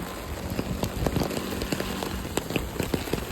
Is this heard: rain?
yes